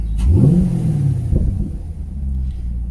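A V8 in a Chrysler 300C Hemi or Chevrolet Camaro SS gives a short blip of the throttle, climbing in pitch and then settling back into a deep, rumbling idle close by.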